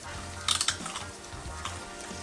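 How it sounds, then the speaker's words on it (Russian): Onion frying in a pan for plov, with carrot to follow, sizzles steadily while a utensil clinks and scrapes against the pan in a few quick strikes near the start. "Лучок жарится."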